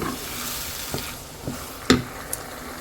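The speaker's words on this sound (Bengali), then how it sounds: "এখন শিম মটরটা একটু কষিয়ে নিয়ে তারপরে শুটকিগুলো দিয়ে দিব" Green beans and peas sauté in a hot pan before dried fish goes in, giving a steady close sizzle with a few soft scrapes and knocks of a stirring spoon.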